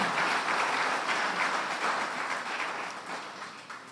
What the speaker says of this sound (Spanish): Yo quiero que le dé un aplauso al que vive.